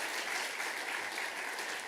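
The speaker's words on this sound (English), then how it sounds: "Can we give the worship team a big round of applause?" Audience applause for a school worship team at a high school awards ceremony: steady, dense clapping from a crowd, moderately loud and continuous throughout.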